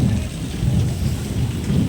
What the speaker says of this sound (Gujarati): હવે વરસાદ તો ગાજે છે